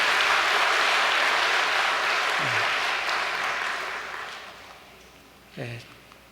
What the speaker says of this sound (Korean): 우리 아프리카 지도자 승리할 수 있도록 지도자를 위해서도 다시 한번 큰 감사의 박수를 보내주시면 고맙겠습니다